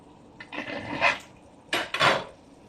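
Metal lid set down on a cooking pot of potato and eggplant curry, two clattering clinks of metal on metal about a second apart, close and fairly loud with no talking.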